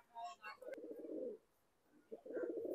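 A pair of golden commando pigeons coo close up in two soft, throaty rolling phrases separated by a short pause, with a faint chirp at the start and no talk.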